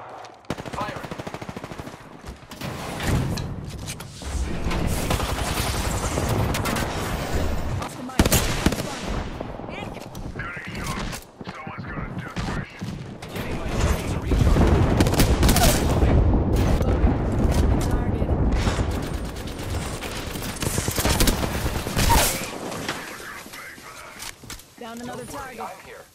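Sustained video game gunfire rattles in long, loud bursts with brief pauses, close and dense, while voices talk over it at points.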